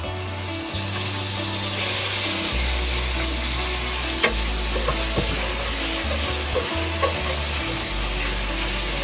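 Ginger paste and freshly added tomatoes fry in oil in a pan for a mutton curry, a steady close sizzle with occasional stirring clicks and scrapes.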